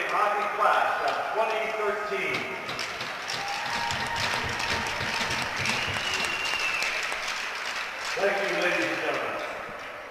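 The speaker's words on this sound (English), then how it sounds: "Let's have a round of applause for the Notre Dame" A crowd at a Notre Dame ice hockey game against Hamden in West Haven breaks into sustained applause lasting several seconds, with voices mixed through and louder cheering bursts at the start and end.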